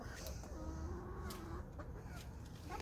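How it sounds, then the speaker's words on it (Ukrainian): A black hen called Tsyganochka in a backyard poultry enclosure, giving soft, faint clucks and short calls against quiet background noise, with a few sharp knocks. "Курочка, циганочка її звати, бо вона така чорненька вся."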